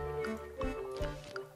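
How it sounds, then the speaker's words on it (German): Waves crashing against a ship in Plants vs. Zombies 2: two or three dull, splashy thumps over a tonal game-music bed, moderately loud and close. "das sind nur die Wellen, die dort gegen das Schiff knallen"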